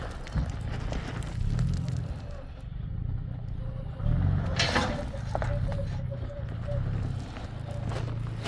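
A vehicle rolls slowly over gravel on the Saline Valley road, its tires giving a steady crunching rumble under a low engine drone with a faint rhythmic thumping, no speech.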